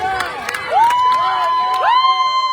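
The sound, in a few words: crowd cheering and applauding participants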